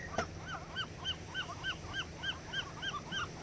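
Birds call near the water, likely geese, with a rapid, rhythmic series of honking calls repeating steadily at moderate distance over soft background noise, with no talking.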